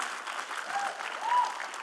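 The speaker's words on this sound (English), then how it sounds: "You can clap for that" Stand-up comedy audience applauding steadily for about two seconds, a dense wash of clapping at moderate volume with a faint swell near the end.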